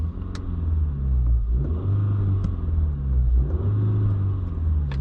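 A manual 2022-2024 Honda Civic Sport 2.0 engine revs in sport mode, its deep rumble swelling in a few quick throttle blips and hanging briefly before falling back, heard up close from inside the car.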